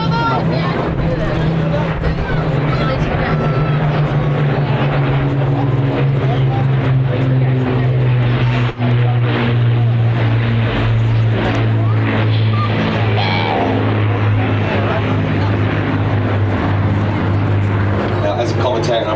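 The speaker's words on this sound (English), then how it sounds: "that's why I don't say much when they're going by, because I just want you to sit back, look at these aircraft" Battle of Britain Memorial Flight aircraft, including the Lancaster PA474, pass over an airshow at Blackpool, their piston engines a loud, continuous droning roar lasting throughout, with crowd murmur underneath.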